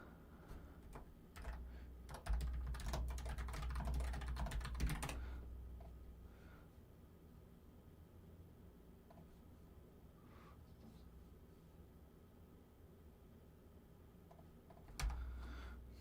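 Typing on a computer keyboard in a quiet room: dense bursts of key clicks early on, then a long near-silent stretch with a few scattered taps and a short thump near the end.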